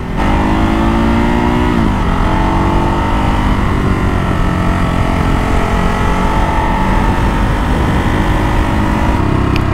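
A Ducati Hypermotard 939 motorcycle engine runs loudly and continuously, revving up and down in first gear around 2,000-3,000 rpm with a rough, slightly jerky drone, close to the listener.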